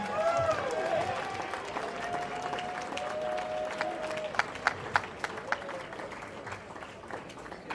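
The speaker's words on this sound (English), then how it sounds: "Give him a round of applause." Audience applause at a wedding reception, a steady wash of clapping through the whole stretch with a few sharper individual claps near the middle, overlaid by tonal background music or whistling and faint crowd voices.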